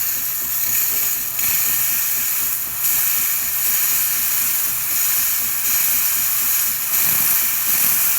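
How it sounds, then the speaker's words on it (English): A Gaggia espresso machine's steam wand gives a steady, broad hiss throughout with a low rumble underneath, fairly loud and continuous with small surges. "So once the water finishes purging, steam will rise."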